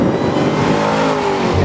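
A Ford Shelby GT500 powers hard out of a corner during a figure-eight test, its engine roaring loud and close with a rising, strained rev across a brief burst.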